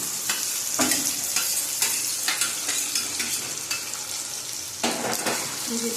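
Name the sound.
green chillies and chicken frying in a pan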